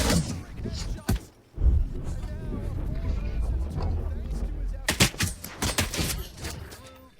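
Gunfire in the tactical shooter Valorant, with short sharp bursts of shots near the start and a tight cluster of several cracks about two-thirds through, heard under steady talk from a commentator.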